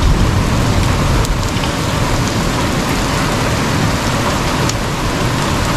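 Heavy rain pours down during a storm at a homestead, a dense steady roar with scattered sharper hits that could be golf- or ping-pong-ball-sized hail striking surfaces nearby.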